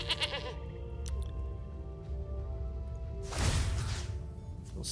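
Goat bleating in the Magic: The Gathering video game, one short quavering bleat with a wavering, nasal tone, clear and fairly close against a quiet game soundtrack, followed by a brief burst of card-play effects.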